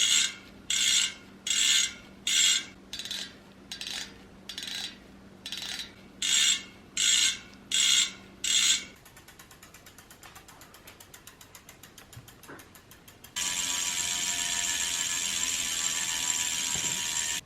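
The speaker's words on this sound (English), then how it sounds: "And this is the sound of the new Hunt wheels." A Hunt Race Aero Wide bicycle wheel freehub ratchets in loud, buzzing bursts as it spins, eight or so pulses in a steady rhythm, followed by a finer continuous clicking whir and then a brighter, sustained rasping buzz.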